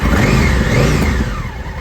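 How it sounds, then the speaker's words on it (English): Engine of a 2017 Honda CRF1000L Africa Twin motorcycle starting up; a loud, close rev rising from the first moment, then settling toward idle within two seconds. "Let me get the bike started up and you can hear how she sounds."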